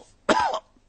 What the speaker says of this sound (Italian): il dottor Orso Bruno ha preso la tosse da Pedro